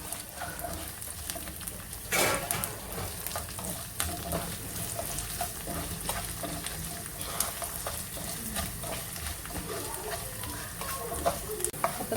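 Chopped large chillies, ginger and garlic sizzle and fry steadily in a pan for fish pickle, with occasional stirring scrapes and a faint clatter, close and continuous.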